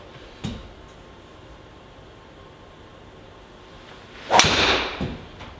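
A sharp crack of a Ping G400 driver hitting the golf ball, followed by a brief whooshing rush and faint ticks; a softer click sounds earlier.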